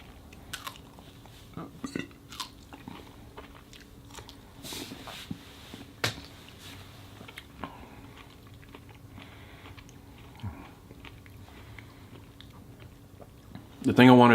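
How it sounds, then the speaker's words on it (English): Someone munches on pieces of an Edible Arrangement fruit bouquet. The soft, irregular chewing and crunching clicks are scattered and mostly faint, with a louder burst near the end. "Just put the camera down and start munching"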